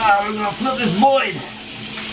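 Duck skin fries in a hot pan with a crisp sizzle, heard close under someone speaking over it.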